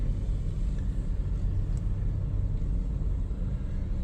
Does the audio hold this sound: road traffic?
yes